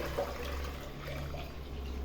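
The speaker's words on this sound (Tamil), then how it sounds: "அரிசி கழுவுன தண்ணியை ஊற்றி வைக்கணுங்க 2 நாளைக்கு" Rice-washing water pouring into a new clay pot, a steady close trickle and splash with low rumble, running continuously without talk.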